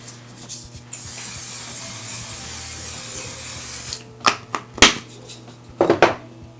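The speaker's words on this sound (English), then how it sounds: "the last spray down is going to be with the One Size setting spray." A long, steady aerosol hiss of makeup setting spray is followed by several short, close spray bursts onto a face, some in quick succession.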